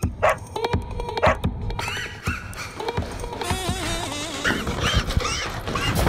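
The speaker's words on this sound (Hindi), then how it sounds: "कुत्ता, कुत्ता घर में?" A dog barks and yips indoors in a house in a comedy sitcom scene, in several sharp bursts mixed with excited, frightened voices and general commotion.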